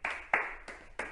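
Slow hand clapping keeping a gentle trotting rhythm, four evenly spaced claps, close and moderately loud.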